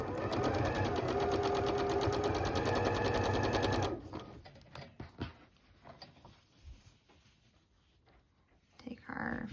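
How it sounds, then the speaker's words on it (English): A sewing machine stitches a quarter-inch seam through nested fabric pieces for a Bowtie Ballet quilt block: a steady, close, fast whirring hum for about four seconds, then it stops, leaving quiet fabric handling and small taps. "we're gonna take our fabric, nest them, and then sew our 1/4 inch"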